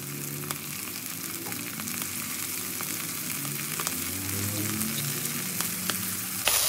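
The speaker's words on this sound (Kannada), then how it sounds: "ಈರುಳ್ಳಿ ಸ್ವಲ್ಪ ಫ್ರೈ ಆದ್ಮೇಲೆ ಮೆಂತ್ಯ ಸೊಪ್ಪು ಹಾಕ್ತಾ ಇದ್ದೀನಿ." Onion and fenugreek leaves frying in oil, a steady, fairly loud sizzle with occasional stirring clicks, continuous for several seconds and ending in a brief clatter.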